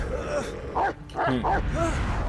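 Dog barking in a few yippy, whining bursts separated by short pauses, close and fairly loud, with people talking around it.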